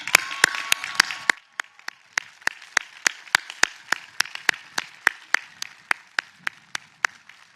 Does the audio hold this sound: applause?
yes